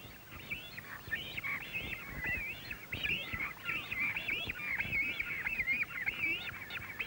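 Young cormorants at a hot nesting colony squawk continuously, a dense overlapping chorus of harsh, honking calls from many birds close by, with no talk.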